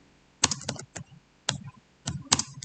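Keys on a computer keyboard are tapped in short irregular bursts, crisp close clicks in small clusters separated by brief pauses, with no talking.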